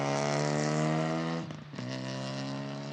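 Clio Cup race cars with 1.3 litre turbocharged 200 horsepower engines at Monza scream past at high revs, a loud sustained harmonic whine that dips briefly as gears shift, then climbs again.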